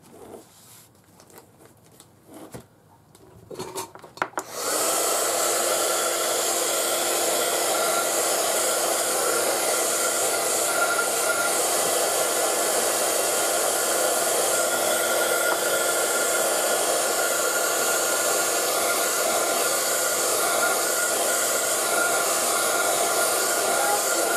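A hair dryer blows over a freshly worked art journal double page. After a few seconds of small shuffling and handling noises it switches on, then gives a loud, steady, close whoosh that runs unbroken to the end.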